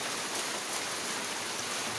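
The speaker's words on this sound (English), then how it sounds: "It's raining right now." Heavy rain pours steadily in a village backyard in Tintiba, The Gambia, a dense, even hiss of drops that fills the whole scene with no pauses.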